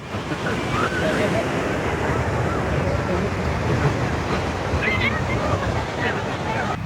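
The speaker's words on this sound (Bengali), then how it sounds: "ঢেউটা অত জোরে আসছে না ওইখানে গিয়েই ভেঙে যাচ্ছে" Continuous roar of surf as waves break and wash up Golden Beach at Puri, with steady wind noise across the microphone.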